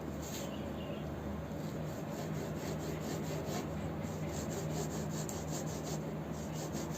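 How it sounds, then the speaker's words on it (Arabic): A serrated knife saws back and forth through sesame mabrouma pastry, making a steady, close rasping crunch for several seconds, with no voices. "فلازم سكين ومنشار. هسه نبدي نقطع بشكل ثاني."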